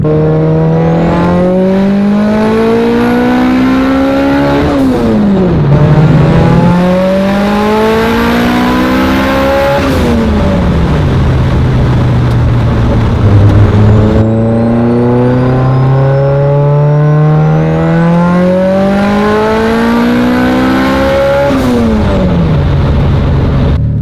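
A Mitsubishi Evo with a new boost controller pulls hard through the gears on a boost test, its engine loud and close, rising steadily in pitch through each gear and dropping sharply at every shift, four pulls in all.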